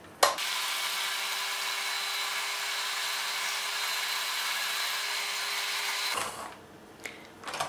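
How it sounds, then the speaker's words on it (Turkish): An electric hand mixer whips two eggs with a cup of sugar in a mixing bowl for cupcake batter, a close, steady motor whir with a fixed hum that runs about six seconds, then cuts off, leaving a few soft clatters. "Üzerine 1 su bardağı şeker ilave ederek mikserle çırpacağım."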